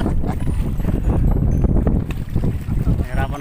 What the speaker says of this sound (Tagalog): Ayan, lakas ng amihan.